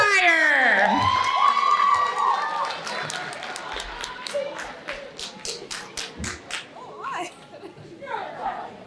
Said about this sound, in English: Let's give these students some encouragement and a round of applause